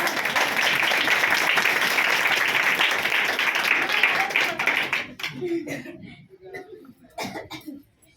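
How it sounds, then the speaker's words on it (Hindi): A church congregation claps together in a dense, steady burst for about five seconds, then the clapping breaks off and scattered voices and sparse sounds follow. "देखो, ताली"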